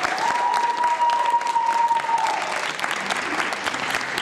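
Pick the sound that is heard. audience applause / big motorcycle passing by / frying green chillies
audience applause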